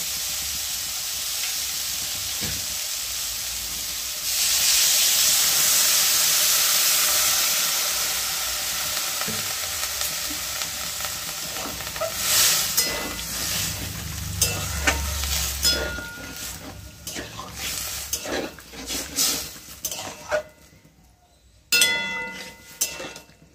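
Water poured into a pan of frying drumsticks, potato and tomato, bursting into a loud steady sizzle and hiss that slowly fades, then a spoon scraping and clinking as the mix is stirred, ending in near silence.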